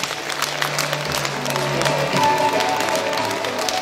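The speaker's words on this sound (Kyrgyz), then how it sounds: "сиздер кол чаап бериңдерчи деп мен сиздерден суранам" An audience in a philharmonic hall applauds a talent-show concert with sustained, dense clapping throughout.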